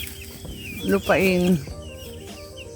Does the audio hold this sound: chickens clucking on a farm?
yes